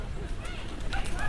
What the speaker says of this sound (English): Let's look at some Tweety birds,